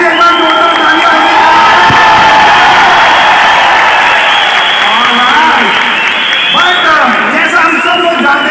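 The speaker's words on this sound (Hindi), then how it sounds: "एमडी सर के लिए भी एक बार जोरदार तालियां होगी।" Loud applause and cheering for the company MD at a Vestige award function and anniversary event in Kolkata, a big crowd clapping with whoops, shouts and excited voices rising and swelling throughout.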